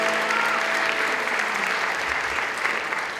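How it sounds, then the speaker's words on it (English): A live concert audience at Adelphi claps steadily for performers being brought onstage, giving a dense, even wash of applause that holds for the whole stretch, fairly loud and with no talking over it. "Yeah, you can give them a round of applause."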